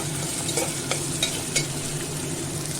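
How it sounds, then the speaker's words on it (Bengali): Chopped onions and green chillies fry in a pan with a steady close sizzle, punctuated by several soft scraping stirs of a spatula. "দিয়ে দিলাম পেঁয়াজ কুচি এখানে পেঁয়াজের পরিমাণটা একটু বেশি লাগবে আর দিলাম কয়েকটা কাঁচা লঙ্কা পেঁয়াজটা লাল করে ভেজে নেব"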